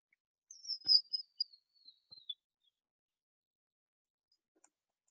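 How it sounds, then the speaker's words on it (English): Recording of a tiny bird's call, heard on a hike in the Los Angeles area: one thin, high, sweeping note followed by a few brief chips, then near silence. "So this is a bird that you might hear whenever you're hiking."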